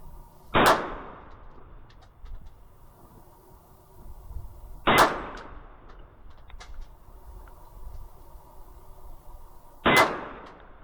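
Three sharp pistol shots from a KelTec PMR 30 during ammunition testing, spaced roughly four to five seconds apart, each a loud crack followed by a short ringing decay outdoors, with no talking.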